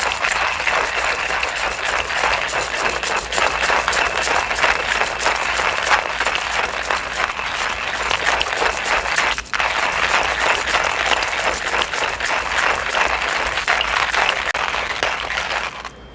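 Coffee beans are hand-ground for pour-over coffee, giving a continuous, gritty crunching and rasping that runs steadily and close up for a long stretch, with one brief pause partway through.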